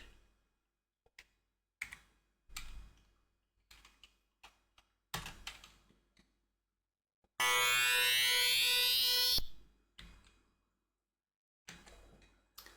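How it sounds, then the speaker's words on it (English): A PC beeper in a DOS video game sounds a loud two-second burst of rapidly sweeping electronic tones, between scattered soft keyboard clicks and taps. "PC beeper, right, so that's connected."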